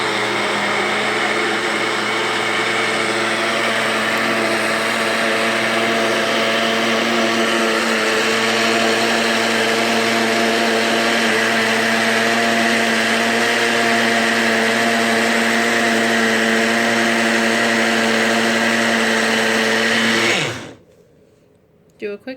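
A blender whips raw milk toward butter, a steady loud motor whine with a constant pitch running about twenty seconds before cutting off abruptly, followed by a couple of faint clicks.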